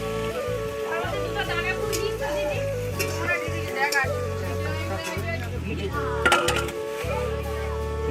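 Meat and bitter gourd frying outdoors during a family Holi gathering, an ongoing sizzle with stirring clinks of a utensil against the pan, while people talk nearby and music or voices run through the background.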